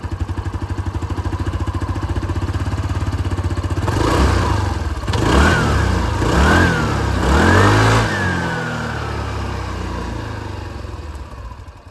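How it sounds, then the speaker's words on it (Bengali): A Hero Xoom 160 scooter engine idles steadily up close, then revs three times in quick succession before settling back to a steady idle hum, with no talking. "চলুন তবে দুটো স্কুটারের আওয়াজ আপনাদেরকে একবার শুনিয়ে দিই। Will start with zoom"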